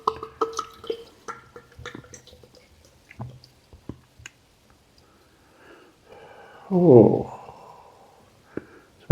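Jubiliejinis anniversary lager is poured into a glass, with clinks and handling clicks first, then a loud, close gush of foaming beer lasting about a second, and a brief spoken exclamation.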